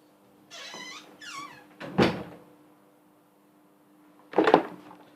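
A bedroom door is pulled shut and locked to keep a cat inside, giving two brief, solid thuds and clicks a couple of seconds apart, with faint squeaky cat-like sounds before them.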